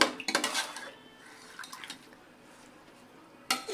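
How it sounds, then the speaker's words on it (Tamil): Murungai keerai soup with salt stirred in a pot, heard as a burst of metal ladle clinks and scrapes, then a quiet pause with faint rustles before another clatter at the end. "கொஞ்சம் உப்பு மட்டும் போட்டு கலரி பாருங்கள்"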